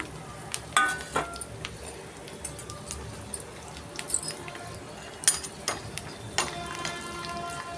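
Pistachios frying in a pan for a Ganesh festival sweet, with a steady light sizzle broken by intermittent scraping and stirring clicks close up.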